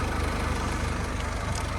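A 2008 Nissan Navara 2.5-litre diesel engine idles quietly and evenly close by, its low steady rumble carrying a faint rhythmic clatter with no talk over it.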